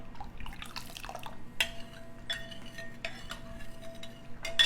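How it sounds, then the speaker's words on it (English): Granules being dissolved in a bowl as a spoon stirs, with light clinks of metal on the bowl and soft liquid swishes in irregular bursts, close and quiet, no talk. "So I'll keep stirring for just another second or two."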